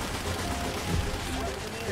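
Dense, continuous gunfire from War Thunder combat fills the whole stretch, heavy shots blurring together in a steady roar with a slightly stronger burst near the middle.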